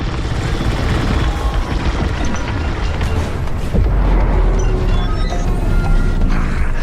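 Bombs dropped in the space combat game Star Wars Squadrons erupt into a loud, continuous rumbling barrage of booms and crackling blasts, with a heavier detonation swelling near the middle and a roaring, engine-like wash throughout.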